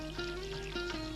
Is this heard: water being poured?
yes